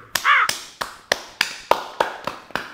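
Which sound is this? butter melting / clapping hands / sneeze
clapping hands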